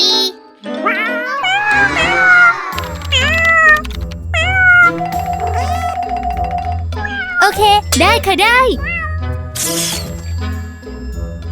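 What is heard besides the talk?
cats meowing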